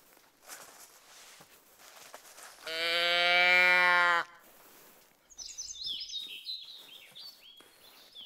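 In the hunting game theHunter: Call of the Wild, a long, loud, low bellowing animal call sounds first, followed by a scattered series of high, thin bird chirps at moderate distance.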